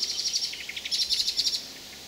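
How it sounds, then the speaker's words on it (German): A bird in a tree overhead gives a harsh, scolding chatter of rapid high chirps for a couple of seconds, moderately near, against quiet outdoor background. "Über mir im Baum meckert irgendein Vogel."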